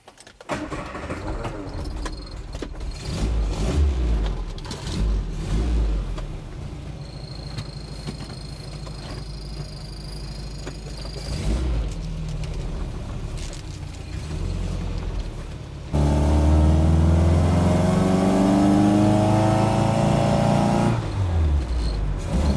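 A Ferrari Super 998 engine starts and revs, a loud close mechanical roar that deepens into a heavy, rising rumble for the last several seconds after a quieter stretch of idle and cabin noise.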